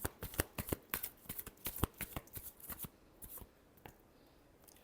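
Tarot cards being shuffled by hand, a quick run of crisp riffling snaps and slaps in irregular bursts that slow and fade, close and quiet with no talking.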